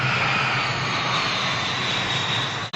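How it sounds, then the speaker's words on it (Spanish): A sound effect of an airplane flying, a loud, continuous roaring engine drone that holds steady and cuts off abruptly at the end. "Es nuestro amigo volador, el avión, que viaja sobre las nubes"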